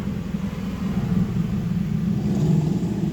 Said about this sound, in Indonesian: Jadi biarin posisi idle aja, jangan digas.